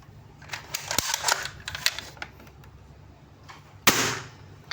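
A green D'Cobra M301 toy gun is handled with a run of sharp plastic clicks as it is cocked, then fires with one louder snapping crack near the end. There are no voices.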